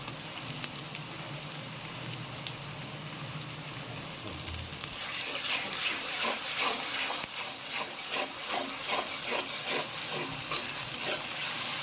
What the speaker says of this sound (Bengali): এবার দিয়ে দিলাম পেঁয়াজ, ফল, লং ওতে। এবার সুন্দরভাবে ভেজে নিব।